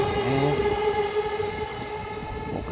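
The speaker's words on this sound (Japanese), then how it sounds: "京浜東北線が、次のね新橋駅の方にね走っていってますね" A Keihin-Tohoku Line commuter train in Tokyo runs past toward Shinbashi station, a loud close rumble with steady whining motor tones and a faint high squeal, continuous throughout with no talking.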